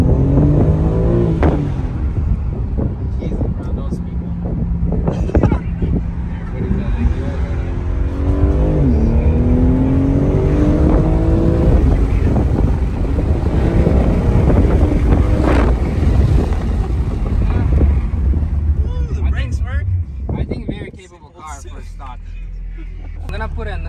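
A BMW G80 M3 on a test drive, heard from inside the cabin as a loud engine drone with revving swells and wind noise, under people talking, then dipping briefly before picking up again.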